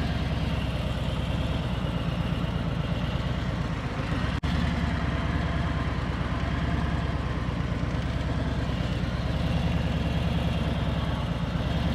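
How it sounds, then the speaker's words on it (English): A motorcycle engine runs at a steady low throb as the bike pulls away under clutch control on a training course, its continuous rumble holding even throughout with no talking. "I engage the clutch, the bike starts to move, and I just hold the clutch, turn and lean the bike."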